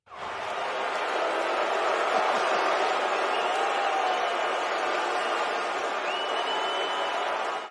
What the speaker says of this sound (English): That is Hulk Hogan getting booed at the Netflix wrestling event